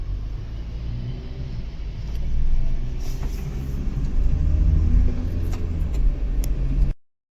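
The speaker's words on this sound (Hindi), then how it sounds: "सबसे पहले गाड़ी चल पड़ी" Vehicle rolling over a freshly built, still-wet road surface, a loud low rumble of engine and tyres that swells midway, then stops abruptly.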